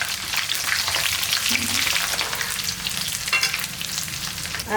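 Mustard seeds, curry leaves and garlic tempering in hot oil for a small-onion puli kuzhambu, a loud, dense crackling sizzle with bursts of spluttering pops, close up.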